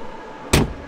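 A Citroën Ami door is pulled shut by its fabric strap, giving one short, close thud that rises out of quiet background hum.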